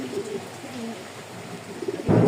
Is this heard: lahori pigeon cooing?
yes